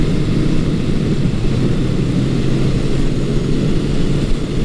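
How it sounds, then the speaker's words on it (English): A 1980 Honda CB900 Custom motorcycle with a 4-into-4 exhaust runs smoothly at steady revs, producing a loud, continuous low engine drone that holds even, without hiccups, for the whole stretch. "I'm not sure how much of the exhaust sound you're getting."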